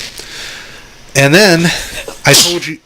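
A single sneeze bursts out loud and close, with a person talking just before it.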